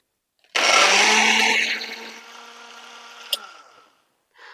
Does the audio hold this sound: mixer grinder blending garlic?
yes